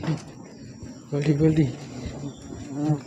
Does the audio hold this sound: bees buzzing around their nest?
yes